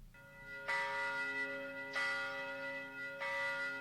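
The Liberty Bell rings three times at slow, even intervals, each strike ringing out with a long, shimmering hum that overlaps the next.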